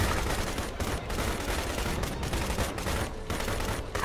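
Sustained automatic gunfire in the video game Ghost Recon Advanced Warfighter 2 forms a dense, continuous rattle of rapid shots with a few brief dips, loud throughout with no talk over it.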